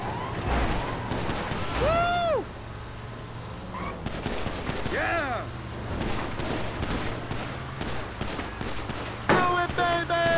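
Gunfire in GTA 5 Online during a chaotic car chase through oncoming traffic, with scattered shots and bursts under excited shouting from players, while siren-like wails rise and fall and engines roar throughout.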